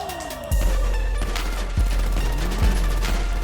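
Gunfire in GTA V roleplay: three loud, close shots spaced roughly a second apart, each with a deep thump and sharp crack, heard over a steady low rumble.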